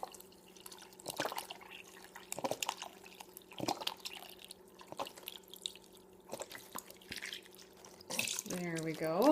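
Chicken broth pours from cartons into a slow cooker, a quiet, uneven trickle and dripping of liquid over a faint steady background hum, swelling into a fuller, louder splashing pour near the end.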